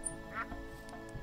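A duck quacks once in a Minecraft farm world, a short nasal call over a low steady game background, with faint chimes and clicks around it.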